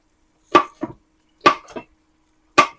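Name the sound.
cutting food with a sharp knife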